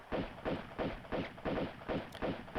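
Gunfire in the Tomb Raider II video game comes as a steady, evenly spaced series of about seven heavy booming shots in quick succession, loud and close.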